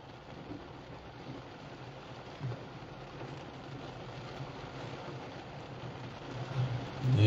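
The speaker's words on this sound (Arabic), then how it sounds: "الحمد لله أمطار غزيرة في هذا الأثناء على مدينة الدار البيضاء" Heavy rain falls steadily over Casablanca, a dense continuous hiss with low rumbling underneath, holding at a constant level for several seconds and swelling slightly toward the end.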